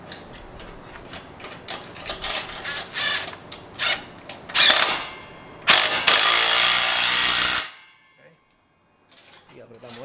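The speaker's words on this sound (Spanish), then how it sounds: "Y con cubo 17 vamos a apretar." Exhaust bolts on a Subaru Impreza, fitted with a dual 2.5-inch sport muffler, tightened with a 17 mm socket: a series of metallic clicks and clanks, then a loud sustained power-tool burst that cuts off abruptly into near silence.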